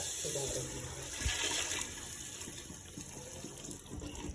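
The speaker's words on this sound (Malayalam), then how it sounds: "നമുക്ക് ഇതിലേക്കുള്ള വെള്ളം തളിച്ചു കൊടുക്കാം" Water pours steadily into a pan of sautéed ingredients in a continuous splashing gush, close and fairly loud, with faint voices beneath.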